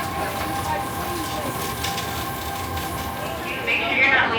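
A roller coaster train at a Kentucky Kingdom amusement park rolls into the station, a steady rumbling rail noise that runs throughout and swells louder near the end as the cars arrive, with faint crowd sounds around.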